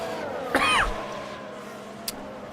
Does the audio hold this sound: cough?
yes